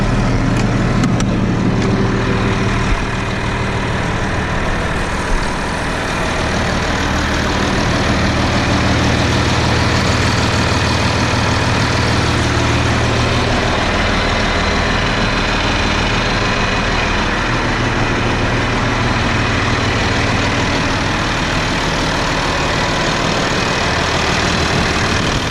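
Tractor engine idling while warming up, hooked to a dry fertilizer spreader, a loud, deep, steady diesel rumble close by, continuous for the whole stretch.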